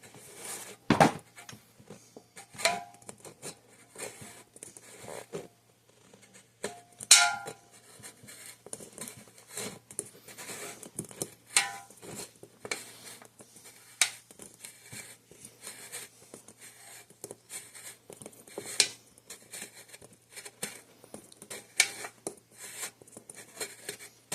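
Aluminium pop can top being cut off while making an alcohol stove: scattered scratchy cutting and scraping clicks, irregular and close, with quiet gaps between bursts.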